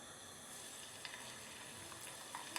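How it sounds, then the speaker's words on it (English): Soft, steady sizzling of flour-dusted beef frying in hot oil, with a few faint pops and crackles, fairly quiet and close. "if you just put a little bit in to see how quickly it starts to sizzle"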